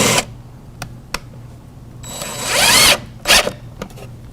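Power drill driving screws into wooden shelves in a workshop: a few short clicks and taps, then a rising, whining drive burst of about a second, and a second shorter whir, fairly close with quiet gaps between.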